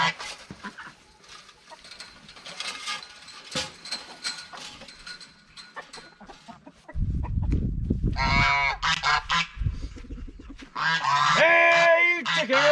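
Chickens let out of a coop on a farm cackle and honk loudly and close by, in bursts of squawking that follow a stretch of quieter rustling and faint clucks.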